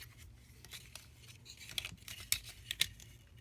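Plastic parts of a Transformers Combiner Wars Voyager Scattershot toy figure clicking and scraping as it is transformed, producing close, irregular snaps and rubs that grow busier toward the end.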